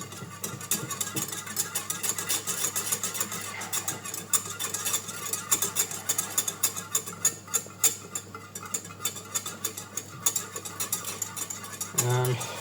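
Tovchanka froths in a pot under continuous, rapid whisking, a dense, steady scraping and clatter of the whisk close by that runs almost unbroken throughout.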